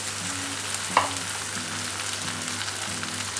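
Roasted prawns sizzling in masala in a pan for a Kerala-style prawn roast, making a steady close frying hiss with a brief stirring clink near the start and no talking.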